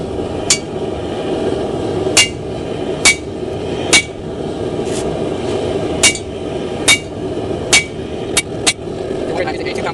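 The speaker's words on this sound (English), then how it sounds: "We're going to use a 2-pound crossbeam hammer." A 2-pound cross-peen hammer strikes hot steel while a camp axe is forged by hand, about a dozen sharp, ringing blows spaced unevenly over a steady background hum.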